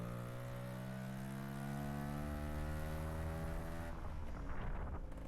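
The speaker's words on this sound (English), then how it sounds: "And there's that tractor again." A tractor engine passes through the lanes of a small English village, a loud steady harmonic drone sliding slowly down in pitch as it goes by, then breaking into rougher rumble near the end.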